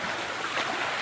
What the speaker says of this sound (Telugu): దోర్ముక్కలలో ఇంట్లోకి నీళ్ళు పోతున్నాయి.